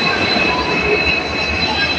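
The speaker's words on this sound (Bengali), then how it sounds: "সুন্দর একটা ট্রেন এসে পড়েছে" A train pulls into a station with a steady, loud rumble of rolling stock and a faint high metallic ring from the wheels, continuous and close throughout, with no voices.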